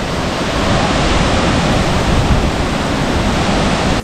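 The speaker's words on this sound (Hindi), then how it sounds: "ये है कैंड्रम वाटरफॉल्स," Kynrem waterfall in India roars as a loud, dense, continuous rush of falling water, steady throughout with no voices heard.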